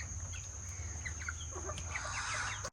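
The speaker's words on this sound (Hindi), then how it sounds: "ये मुर्गा बहुत बदमाशी करता है।" Rooster and hens clucking in a farmyard at feeding time, steady close clucks and short calls over a constant hum, with no talk.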